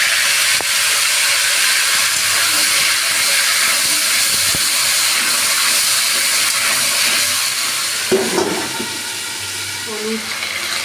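Potatoes added to hot oil with bay leaf and panch phoron sizzle loudly in a pan, a steady broadband hiss close up with a few clinks near the end.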